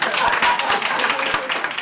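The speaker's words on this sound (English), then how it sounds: "If you're happy and you know it, clap your hands." A crowd at an evening awards ceremony claps along to a sing-along song, a dense burst of many hands clapping close and loud, while a voice sings over it.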